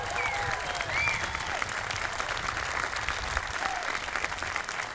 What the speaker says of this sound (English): Give them a better round of applause for that